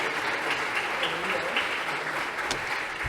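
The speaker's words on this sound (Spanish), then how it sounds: "voy a pedir un aplauso para las intérpretes que están trabajando para que podamos compartir las ideas" An audience in a lecture hall applauds the interpreters, sustained even clapping from a large room that holds at a steady level throughout.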